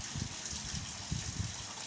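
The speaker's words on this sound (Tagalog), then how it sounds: "Ayan, nilagyan ko na rin siya ng tubig. Maraming tubig dahil matagal din natin siyang pakukuluin." Water gushes steadily into a cooking pot for pork hock paksiw, a continuous close splashing pour without a break and with no talk.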